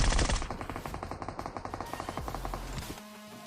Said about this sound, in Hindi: अब यहाँ पर सामने चल रही है फायरिंग